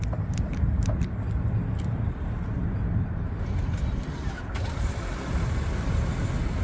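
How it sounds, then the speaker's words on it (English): A BMW engine starts by remote start, heard as a steady low rumble from close by with no talk, a few faint clicks near the start and a small shift in tone about two-thirds of the way through. "The car just turned on"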